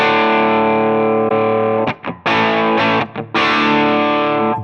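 Electric guitar through a Tonex pedal on the Mark IIc Plus amp model in normal mode, playing loud, sustained distorted chords with two brief gaps where the strings are cut off, then ringing out again.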